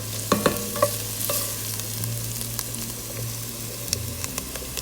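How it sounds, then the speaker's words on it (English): Onions and mushrooms caramelizing in a pot for a garlic soup, a steady close sizzle broken by repeated scraping and clacking of a stirring spoon against the pot, with no talking. "Onions are caramelizing in here really nicely."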